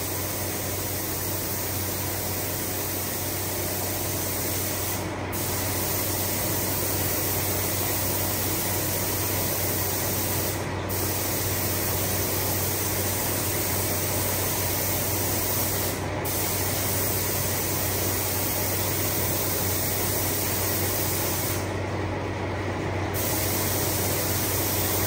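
A spray gun lays a candy paint coat onto a panel with a long, even, close hiss of air and atomized paint, steady for the whole stretch with only brief gaps, no voices over it.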